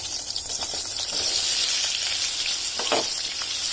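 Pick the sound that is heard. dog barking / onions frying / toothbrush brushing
onions frying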